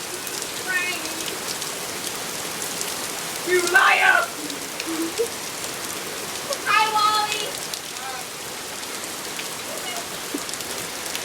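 Heavy rain pouring down outdoors, a dense steady hiss of drops hitting surfaces throughout, with children's and adults' voices shouting and chatting excitedly over it at intervals.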